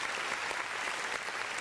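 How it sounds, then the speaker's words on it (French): Applause for the winner of a Bible quiz game, a steady dense wash of many hands clapping close by, moderately loud and unbroken, with no talk over it. "vous pouvez applaudir."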